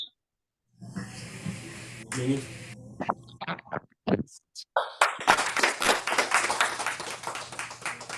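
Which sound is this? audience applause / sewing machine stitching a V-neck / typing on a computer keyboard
audience applause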